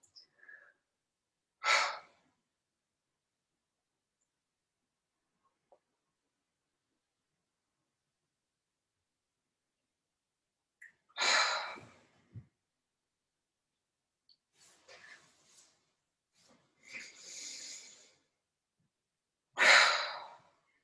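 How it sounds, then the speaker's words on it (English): Slow, focused belly breathing in pranayama practice, a few long audible breaths spaced many seconds apart with silence between them, close and soft, without speech. "Breathing through your belly."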